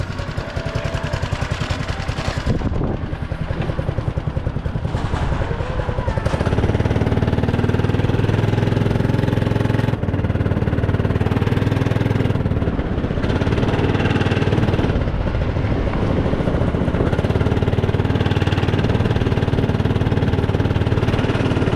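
Several go-kart engines idle together at a kart circuit just after being started, a loud, steady, close buzzing drone that firms up after a few seconds and continues without talk.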